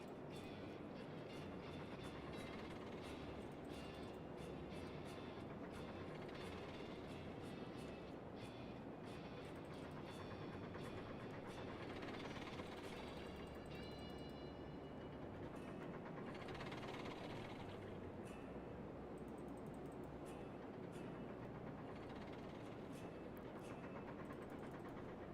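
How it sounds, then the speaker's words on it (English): A heavy freight train hauled by a single steam locomotive in the Railroads Online video game gives a steady, continuous low rumble and rolling clatter throughout, with no talking. "I got a heavy ass train for one locomotive."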